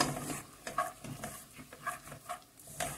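A wooden spoon or spatula scrapes and stirs peanut praline as the sugar crystallizes in a pan, giving repeated close rasping strokes with faint clinks against the metal and no talking.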